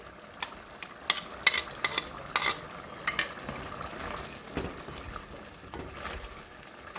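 Homemade yogurt is stirred into kachnar keema in a pan, giving a soft sizzle under repeated spoon clatters and scrapes in an irregular rhythm.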